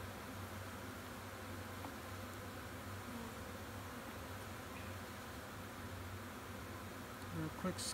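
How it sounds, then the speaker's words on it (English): A dense, steady hum of many honeybees buzzing close by in an open hive of a strong colony, continuous and even, with a faint clatter near the end. "Real nice strong colony, bees wall to wall."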